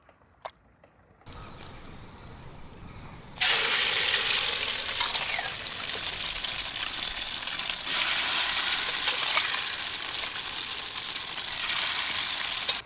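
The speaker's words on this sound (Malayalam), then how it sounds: "ഇനി നമുക്കിത് പൊരിച്ചെടുക്കാം കേട്ടോ." Chicken pieces coated in masala are dropped into hot sunflower oil, and after a quiet start a loud, steady sizzle and crackle of deep frying fills the space close by.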